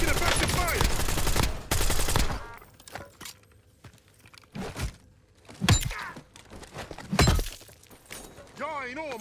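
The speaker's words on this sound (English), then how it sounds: "Taking effective fire!" Bursts of video game gunfire, rapid automatic volleys and sharp single shots with shattering impacts, loud and close, arriving in clusters separated by brief lulls while voices talk over the action.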